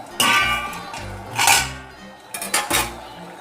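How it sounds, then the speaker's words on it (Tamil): Metal clanks as the lid of a pot of boiling vegetable kulambu is lifted and set down, several distinct ringing clatters separated by short gaps, close and fairly loud. "இப்போ நம்ம மூடி ஓப்பன் பண்ணிக்கலாம்."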